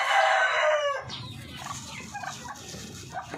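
Chickens fed coconut pulp: a rooster crows loudly at first, then a flock clucks and murmurs softly nearby as they feed.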